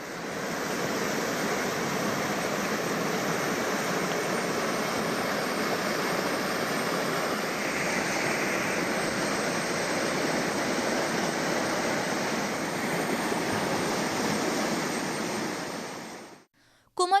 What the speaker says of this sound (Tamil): குமரிக்கடல் பகுதியில் பலத்த சூறைக்காற்று வீசியதால் அலைகள் ஆக்ரோஷத்துடன் பல அடி உயரம் எழும்பின.